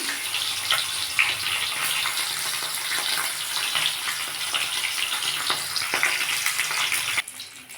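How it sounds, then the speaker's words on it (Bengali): A fish head fries in hot oil, giving a continuous dense crackling sizzle, close and fairly loud, with scattered pops before it drops away abruptly near the end. "তেলটা গরম হয়ে গেছে মাছের মাথাটা আমি ভেজে নিই"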